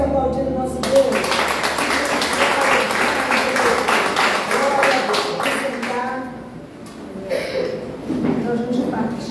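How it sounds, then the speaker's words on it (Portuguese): Members of a church congregation applaud together during a worship service, giving a dense run of clapping that swells and eases and then rises again, with voices mixed in among the claps. "Vamos aplaudir o nosso Deus"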